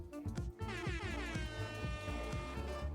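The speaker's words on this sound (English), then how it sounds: "the drone blasts some air horns at us" Loud, sustained blaring air horn blasts from a drone in a video game, over a thumping rhythmic backdrop, with repeated pulses continuing throughout.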